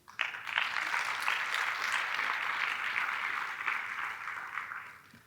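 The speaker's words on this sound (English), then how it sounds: "I'm sure they deserve a round of applause." A conference audience applauds board members, a warm rising swell of clapping that holds steady then gradually fades out, moderately distant.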